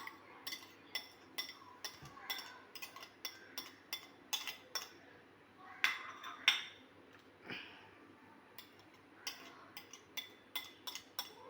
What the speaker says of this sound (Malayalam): ഇനി നമുക്ക് ഈ ബൗളിലേക്ക് ഈ സവാളയും തക്കാളിയും എല്ലാം ഇട്ട് ഒന്ന് മിക്സ് ചെയ്യാം